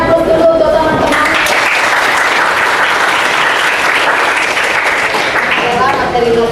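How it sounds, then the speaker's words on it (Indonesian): A classroom of high school students applauds their classmates, giving loud, steady clapping from many hands that fills the room for several seconds. "Beri aplaus dulu untuk teman-teman."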